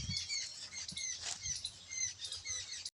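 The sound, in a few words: rain starting to fall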